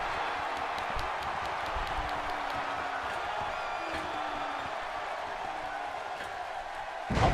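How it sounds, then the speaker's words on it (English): A sold-out arena crowd in the wrestling video game WWE 2K16 roars and cheers steadily in the background, a continuous wash of distant voices with occasional thuds and a sharper swell at the end. "by the sound of this crowd, I think they're getting what they wanted."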